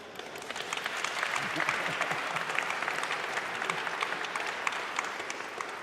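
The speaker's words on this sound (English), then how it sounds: "That's why they're clapping" Sustained audience applause during a university State of the University address, a steady wash of many hands clapping at moderate distance for several seconds, with no talk over it.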